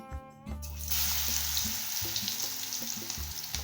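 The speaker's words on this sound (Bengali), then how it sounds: "তেল গরম হয়ে গেছে এবার এই মাখা থেকে বড়ার আকারে একটু নিয়ে তেলে ছেড়ে দিচ্ছি" Cabbage pakora batter drops into hot oil and bursts into a loud, steady frying hiss, nearby, after a brief low hum at the start.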